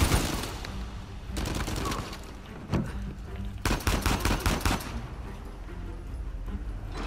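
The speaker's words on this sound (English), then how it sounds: "Where are you shooting me from?" Rapid gunfire from the video game Uncharted 4 rattles in repeated bursts of automatic shots, with a pause between volleys, loud and close.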